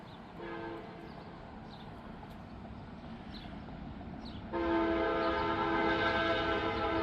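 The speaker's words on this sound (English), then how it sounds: "That's a freight train." A Canadian National freight train rumbles past steadily with a broad roar, and partway through a loud sustained horn chord sounds and holds to the end.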